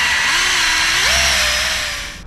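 A power buffing tool polishes a UV-damaged polycarbonate headlamp on a BMW E90, giving a loud, close, continuous whine that climbs in pitch midway and then fades out at the end.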